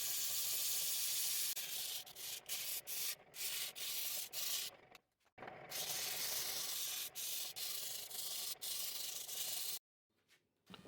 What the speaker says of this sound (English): So I'm sanding it here on the disc sander